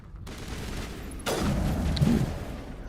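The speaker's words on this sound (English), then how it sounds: "the problem with this gun is that it's pretty slow" A slow-firing gun in the Mass Effect video game lets off a heavy shot amid a dense, rumbling game soundscape, with a sharp onset about a second in and a sustained booming tail; no one speaks.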